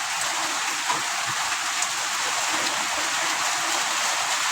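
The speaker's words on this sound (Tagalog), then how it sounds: "lakas ng ulan" Heavy rain pours down steadily in a dense, even hiss with scattered drop patter, constant and close throughout with no voices.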